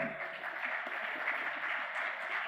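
Audience clapping at a regional cost and management accountants' convention, an even, steady round of applause heard from a distance in a hall, lasting the whole moment without pauses.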